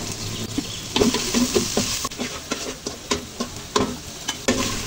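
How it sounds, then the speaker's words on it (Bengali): A paste of ginger, garlic and onion fries in a pan with a crackling sizzle and frequent quick scraping strokes of a spoon, close and with no voices. "ব্রাউন কালার করে ভেজে নিচ্ছি, যেন মশলার গন্ধটা না থাকে।"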